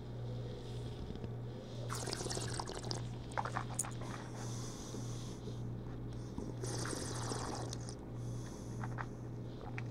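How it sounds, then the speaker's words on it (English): Wine poured into a glass, with a low steady hum underneath and bursts of liquid splashing and gurgling that come and go across several seconds, close and fairly clear, with no talking. "then I'm gonna pour another glass because I really think that's the second pour is really where I'm gonna find everything"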